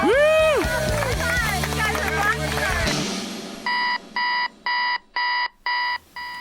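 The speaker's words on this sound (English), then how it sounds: "Alarm just went off." An alarm clock rings in steady repeated electronic beeps, six even bursts in a row, right after a stretch of music with a voice.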